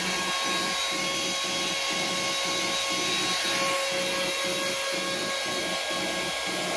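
Hair dryer blowing steadily nearby, a constant airy whoosh with a faint electric whine and a regular pulsing thump beneath it.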